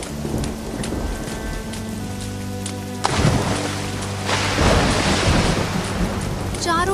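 Heavy rain pours steadily through a storm while rolling thunder rumbles and swells, with a sharper crack about midway.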